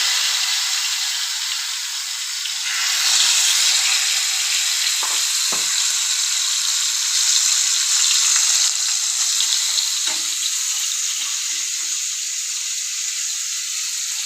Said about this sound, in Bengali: এটা এখন জাস্ট একটু ফ্রাই করে নিব